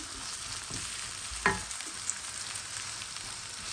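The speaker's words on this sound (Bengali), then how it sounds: "আমি 2 মিনিট পেঁয়াজটা একটু ভেজে নিব।" Onion frying in a pan for pasta, a soft steady sizzle with a couple of faint stirring knocks, fairly quiet throughout.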